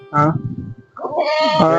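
Goats bleat on a goat farm: one wavering bleat near the start, then a longer, louder bleat or overlapping calls after a brief pause. The sounds are close and clear.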